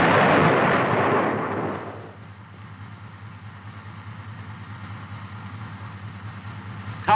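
M551 Sheridan armored reconnaissance/airborne assault vehicle firing its main gun: a single loud, close blast at the start that rolls off over about two seconds into a low, steady rumble.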